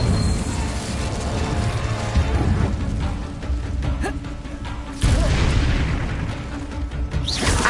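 Incendio fire spell cast in Hogwarts Legacy, a dense booming burst of flame over a continuous game soundscape, with a second stronger whoosh-like surge partway through.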